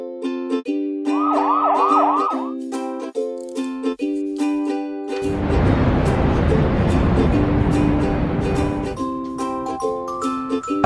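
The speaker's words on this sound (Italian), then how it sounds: "Camion dei pompieri." A short electronic fire truck siren wails in rising sweeps over tinkly toy-like music, followed by a few seconds of loud rushing noise.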